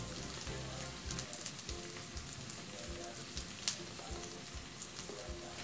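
Coriander, cumin and ground nutmeg stirred in a frying pan for pallubasa, a steady close crackling sizzle with light scraping texture and a few sharper ticks, no voices.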